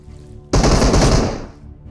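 Burst of machine gun fire from a mobile shooter game in a snowy map, a loud sustained rattle of rapid shots lasting about a second, then tailing off.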